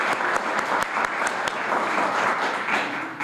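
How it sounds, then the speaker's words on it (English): A crowd applauds graduates at an immigrant-community graduation ceremony in Boston, with steady, dense clapping sustained across the whole stretch and a few sharper individual claps standing out. "Let's give a round of applause for all the graduates tonight who are sitting in the front 2 rows"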